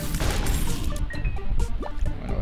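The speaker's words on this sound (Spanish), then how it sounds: "Oye, ¿se rompió el telescopio?" A telescope item breaking in The Binding of Isaac, a loud crashing smash with scattered clattering bits over steady game background sound.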